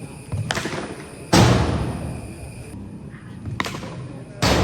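A cricket bat strikes the ball in a match full of sixes, giving two loud, sharp cracks several seconds apart over steady ground noise, plus a softer knock in between.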